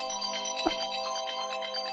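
A steady electronic phone ringtone plays continuously, a bright, even tone with a soft knock partway through.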